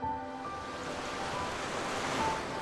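Pacific Ocean waves roll against the rugged Big Sur–style California coast where mountains meet the sea, a steady broad wash of surf with wind noise, continuous and moderately distant, no voices.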